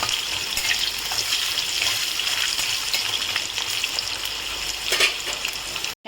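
Thinly sliced potato fries in oil with cumin and bay leaf, giving a steady, moderately loud sizzle that hisses evenly with a few sharper crackles.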